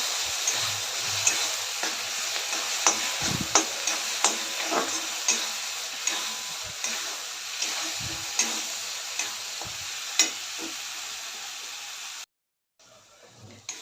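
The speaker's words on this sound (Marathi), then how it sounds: "लसूण खसखस आणि तिळ्याचं याचं मिरची याचं वाटण करून घेतलेलं आहे ते यामध्ये घालते चांगलं मिक्स करून परतून घेऊया" Ground garlic, poppy seed, sesame and chili paste sautéing in a pan with onion, tomato and coconut paste for a mixed vegetable kurma, giving a steady low sizzle broken by irregular scraping and stirring clicks, close and alone, cutting off near the end.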